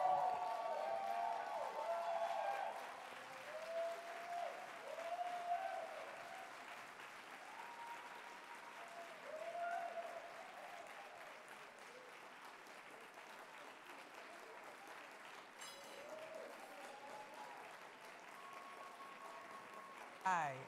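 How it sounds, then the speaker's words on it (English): A conference audience at a New Jersey governor's housing and economic development awards event gives sustained applause for an honoree, a steady, moderately distant clapping that continues throughout. "give her a round of applause"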